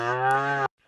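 During cutting horse training, a cow gives one loud, close, sustained moo lasting most of a second. It stops abruptly and is followed by near silence.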